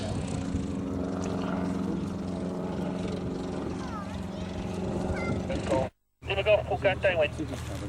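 Engine drone from a Beagle A61 Terrier, a light propeller aircraft remanufactured from an Auster, flying at a vintage flying weekend, steady and fairly loud for about six seconds before cutting out, then returning with rough, fluctuating noise.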